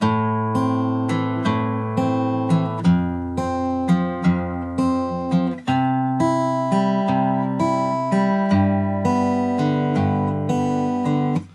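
Fingerpicked acoustic guitar plays a repeating pattern of plucked notes over bass tones, steady and clear, with ringing chords throughout and no voices.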